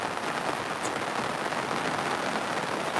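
Steady rain falling on a farm, a continuous even hiss of drops with no breaks, close and moderately loud, with no voices over it.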